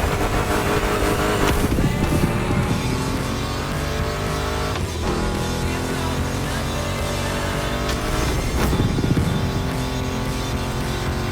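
A Mustang GT muscle car engine in The Crew Motorfest roars loud and close, revving and surging through gear changes with a throaty, continuous growl over background music.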